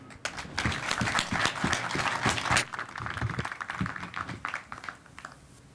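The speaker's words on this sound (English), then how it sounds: "So please give him a round of applause" Audience at the Tampa Bay Super Bowl LV Host Committee welcome press conference applauding steadily, a dense patter of hand claps that thins out toward the end.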